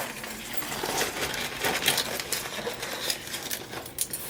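Toy coins from a children's Star Princess play purse clink and rattle in quick, irregular bursts, close and fairly crisp, without any talking.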